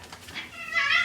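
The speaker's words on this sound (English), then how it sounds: "it says the cats are fighting." A cat lets out a short, rising yowl, close and clear, lasting about a second with no talk over it.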